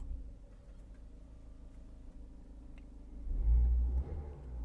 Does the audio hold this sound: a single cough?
no